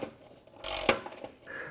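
A ratchet tightens a bolt on a front bumper being fitted to a Jeep Wrangler JL, making one short, close burst of clicking and rubbing in a quiet space.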